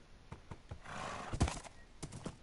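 A Minecraft horse whinnies once in the middle amid soft, spaced hoof clip-clops before and after, quiet and close, with no talk over it.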